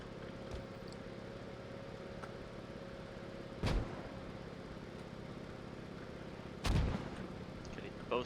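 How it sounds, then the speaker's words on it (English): Mortar rounds land in the Post Scriptum World War II video game, two distant booming impacts a few seconds apart over a faint low background drone. "I also got some mortars coming in, not sure if they are German or US"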